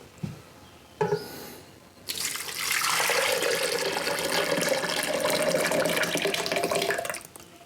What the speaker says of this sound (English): the jelly is melted, so we just need to pour that into our blender here